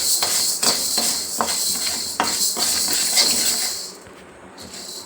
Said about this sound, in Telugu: ఇప్పుడు ఇవి దోరగా వేయించుకుందాం